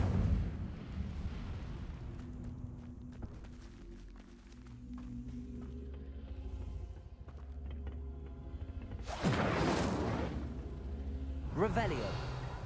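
Incendio fire spell cast in a wizarding video game, heard as a loud burst of whooshing, roaring flame around the ninth second, then a shorter flare near the end, over busy game ambience and a talking voice.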